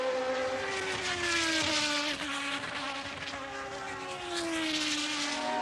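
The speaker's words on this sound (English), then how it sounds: "listen to Andretti's engine, he's in trouble" High-pitched Formula 1 engine whine from Andretti's car in trouble at the 1977 British Grand Prix, rising and falling as the revs shift unevenly, continuous with no talk.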